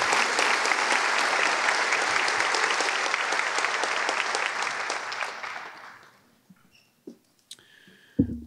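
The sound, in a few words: audience applause for scholarship donors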